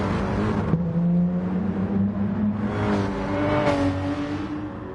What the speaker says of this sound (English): That Porsche does sound nice under acceleration. Lovely tone to that flat 6.